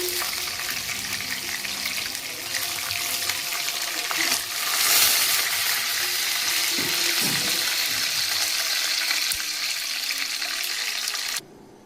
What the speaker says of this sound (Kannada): ಆಮೇಲೆ ಅದು ಎಣ್ಣೆಯಲ್ಲಿ ಫ್ರೈ ಆದಾಗ ಕಡ್ಡಿ ಸಪ್ರೇಟ್ ಆಗುತ್ತೆ